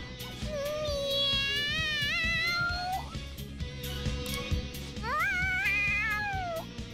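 A cat in the video game Persona 5 meows excitedly, two long rising and wavering cries separated by a short pause, loud and close over a low game-music backdrop.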